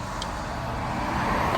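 A steady road rumble as a car passes nearby on a roadside where trees are being felled, low engine and tire noise building slightly toward the end, with no voices.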